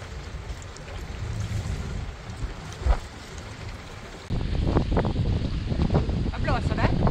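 Wind buffets the microphone on a sailboat heading out of harbour at Valletta, a steady gusting rush that grows louder and rougher partway through, with people talking faintly at times.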